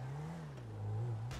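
A car engine in the video game GTA 5 hums steadily and then revs up slightly as it drives, one continuous whirring tone with no voices.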